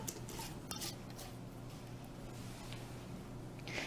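A lid is screwed onto a jar of oil and vinegar dressing, with faint scraping and light clinks close by over low steady background noise.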